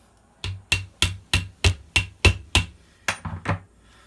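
Light taps on a gas blowback G&P M16A4 airsoft rifle's trigger group during assembly: about ten crisp, evenly spaced knocks, close and clear, with the last few coming quicker and softer.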